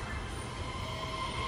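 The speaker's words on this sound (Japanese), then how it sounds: "今ちょうど中本行きの列車が発車していくんですよ" A Kita-Osaka Kyuko line train, a red Osaka Metro Midosuji Line car, pulls out of the station, giving a steady low rumble of rolling stock with faint wheel and motor tones and no talking.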